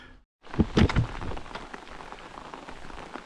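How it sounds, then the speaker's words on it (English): Rain patters steadily on a forest trail on a long-distance hiking loop, a dense close hiss after a brief silent start, with a few louder drops early on. "the last mile must be done in the rain"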